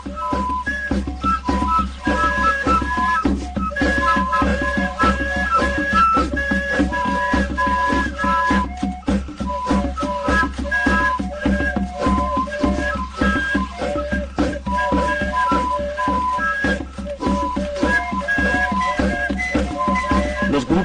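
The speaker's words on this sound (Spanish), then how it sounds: "Al ritmo de rudimentarias flautas hechas de hueso, de silbatos y de tambores" Rudimentary bone flutes and whistles play shrill, repeating melodic phrases over a dense bed of drumming, loud and continuous throughout a ritual dance.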